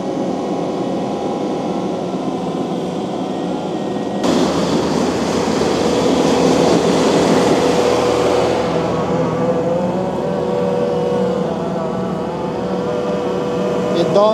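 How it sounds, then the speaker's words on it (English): A skid steer grinds through very thick overgrowth, its engine a steady loud drone that swells into a harsher, louder roar of machinery tearing through brush midway before settling back. "This is really thick overgrowth for any skid steer."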